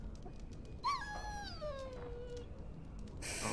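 A dog in the video game Dragon Age: Origins gives a single drawn-out whimpering whine that slides downward and trails off, close and fairly clear over a low background hum.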